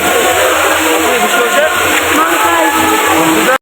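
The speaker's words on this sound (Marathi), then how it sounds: "आणि आता पाऊस आलेला आहे" Heavy rain falls at Ekveera temple in Lonavala, a loud, dense, continuous hiss close by with a voice talking through it.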